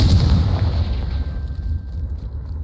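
A loud, deep blast from the Confringo fire spell in a video game, one heavy rumbling boom that rolls on and slowly fades.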